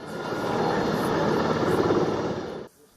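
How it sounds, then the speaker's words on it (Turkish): A police helicopter's steady, loud rotor roar fills the air close by during a special operations police drill, holding for a few seconds before cutting off abruptly. "Tatbikatta çok sayıda polis helikopteri de kullanıldı."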